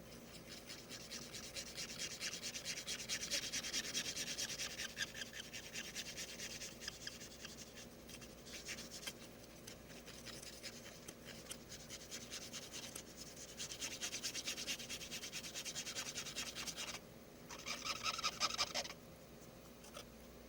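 Someone scrubs years of grime off a 1989 Famicom Castlevania III: Dracula's Curse cartridge, a close, continuous rubbing and scratching that surges and eases in strokes for about twenty seconds.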